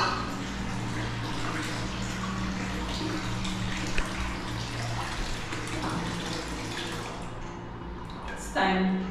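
Soapy water sloshing and bubbling in a Turkish bath as it is stirred, a continuous close watery churn with a faint voice talking over it.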